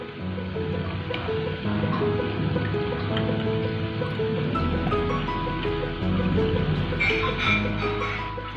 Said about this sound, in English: Take a broad bowl and squeeze out the vadas from the water